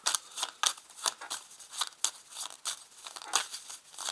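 A deck of tarot cards is cut and shuffled by hand, giving a run of close, crisp papery flicks and slaps that come in uneven bursts with no talk.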